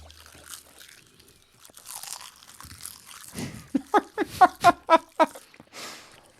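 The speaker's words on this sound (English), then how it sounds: "I hope you're all enjoying the ASMR of crunchy seaweed." Crunchy seaweed snack being bitten and chewed up close, a run of about six loud, crisp crunches in steady rhythm after a quieter stretch with faint background voices.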